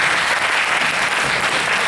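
Audience at a community talk on the Jain path to happiness claps steadily in a dense, even burst of applause for about two seconds, with no voices over it.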